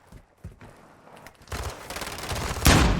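Sniper rifle shots in a Call of Duty pro match, Seattle Surge vs New York Subliners: scattered gunfire and shots that grow denser into a loud cluster of rapid fire near the end.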